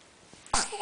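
A single short sneeze bursts out close up after a brief quiet moment, sounding like a small child.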